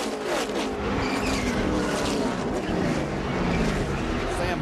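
NASCAR Nationwide Series cars racing at Daytona in 2011, a dense continuous roar of engines with tire noise, heard under announcers' commentary throughout.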